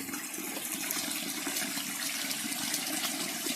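Spring water runs steadily through open channels where pipes once fed it in a village, a continuous close rushing and gurgling with no break.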